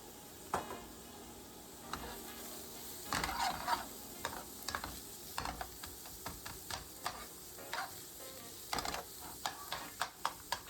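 Sliced onions fry softly in a pan, a low sizzle broken by irregular clicks and scrapes of stirring, fairly quiet and close with no talking.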